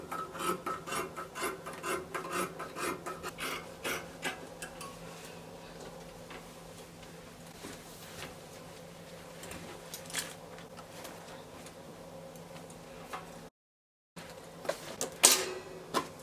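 Scissors cutting through fabric for a trouser, a steady run of close, soft snipping and rasping strokes against a table, with a brief gap near the end and no talking.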